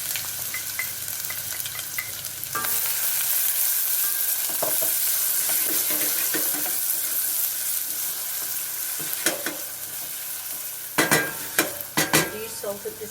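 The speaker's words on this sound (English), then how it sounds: "You start off with the onion. Just you get your oil quite hot." Chopped onion sizzles and crackles steadily in hot oil in a pan on the stove, a continuous frying hiss with a few sharper pops and utensil clinks toward the end.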